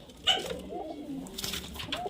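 A male pigeon at a Murshidabad bird market cooing softly nearby, a few low throaty coos with faint chirps and background bustle.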